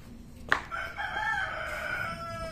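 On a rural farm property with mango trees, a rooster lets out a clear, sustained crow at moderate distance after a sharp knock, with faint ambient farmyard background beneath.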